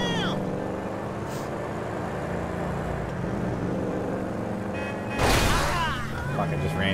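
Car exhaust from a vehicle driven in the video game GTA 5, a steady engine drone running throughout with a loud burst of revving near the end, while a person talks over it.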